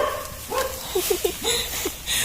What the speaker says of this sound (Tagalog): Kasi doon sa kabila may aso.